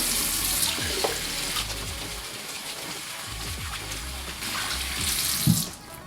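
Tap water runs steadily into a sink while shampoo is rinsed off, a close, continuous splashing rush with small shifts in flow and no talking.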